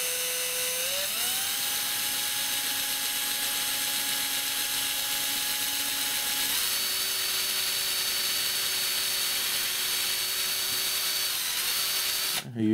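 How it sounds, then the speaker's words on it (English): A power drill bores a hole through a small wood block set on a scrap board, a steady close whine that shifts pitch as it bites and slows, ending with a short clatter. "going to drill a hole through it"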